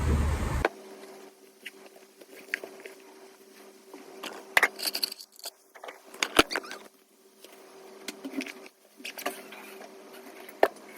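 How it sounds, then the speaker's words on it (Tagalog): Steady light rain patters with soft irregular ticks and drips, near and fairly quiet, with no voices. "Umuulan."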